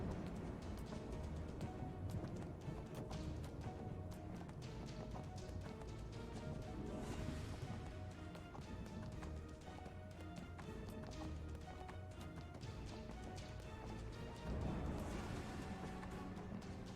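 Horse hooves clip-clop in a video game, a soft, quick, steady patter of hoofbeats running under dense game music and ambience, quiet and continuous throughout.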